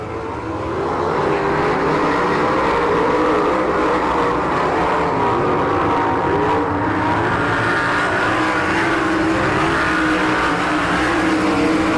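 Sprint cars racing on a dirt track at an All Stars versus NCRA event in Saint Clairsville, Ohio, a sustained loud, dense engine roar that swells and holds steady throughout with no talk.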